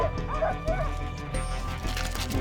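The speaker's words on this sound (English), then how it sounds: "We can hear them all barking now." Greenland sled dogs yipping, whimpering and barking in a chorus at feeding time, close and continuous over rough background noise.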